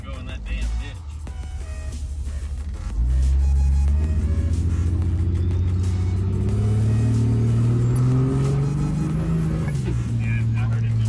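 A vehicle powered by a D&J Powerplant engine on its first drive, running low in RPM on old fat front tires: a steady close engine drone that steps up in loudness partway through and holds, with people talking over it.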